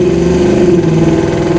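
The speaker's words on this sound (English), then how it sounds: "It's like a Flowmaster style muffler, so it sounds really good going down the road." A 1971 Chevrolet Nova SS with headers, dual exhaust and Flowmaster-style mufflers pulls under acceleration, a loud, close, steady engine drone with a rising tone.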